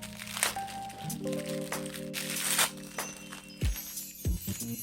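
Crinkling and crackling plastic as the packaging of Galaxy S21 phone cases is torn and handled, with sharp snaps and a couple of low thumps near the end.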